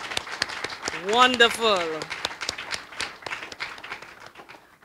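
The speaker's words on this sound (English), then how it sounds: "I believe that these poets need a round of applause that's resounding." Audience clapping for poets at a poetry lecture evening comes as sparse, scattered claps from the crowd, while a voice briefly speaks over them in the middle.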